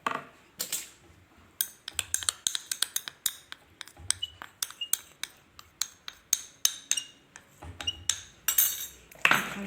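Spoon clinking and scraping in a bowl while biscuit dough with cornstarch is mixed, a steady run of sharp taps and knocks, close and fairly quiet, with no talking.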